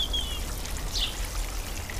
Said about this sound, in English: You see how much water I'm giving them?